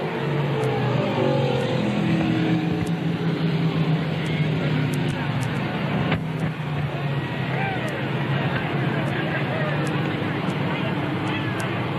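Modified race cars roar around an oval track in a continuous loud engine drone with a passing swell midway, while an announcer calls the action over crowd noise and high electronic ticks.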